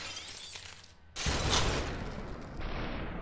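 Enemy gunfire in the stylized shooter game Superhot Mind Control Delete, a sudden loud burst of sharp shattering shots that cuts in after a quieter stretch and keeps a dense, crackling roar going to the end.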